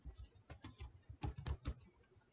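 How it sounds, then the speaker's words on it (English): Fingers typing on a computer keyboard, a quick irregular run of close key clicks in small bursts, soft and fairly quiet, with no talking. "I'm just going to type in here"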